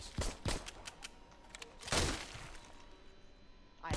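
A shotgun firing in the Arizona Sunshine VR video game, several sharp blasts in an uneven burst, a few rapid reports early, a louder one near the middle and another at the end, with faint background between shots.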